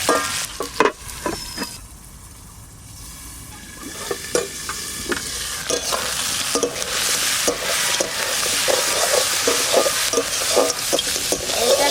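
River crab from the Sundarbans fries with flour in a pan, giving a loud, close sizzle broken by repeated clacks and scrapes of stirring. It starts quieter, then builds into a continuous hiss.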